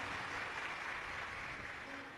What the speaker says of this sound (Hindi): उनके लिए एक बार जोरदार ताली बजाकर साथ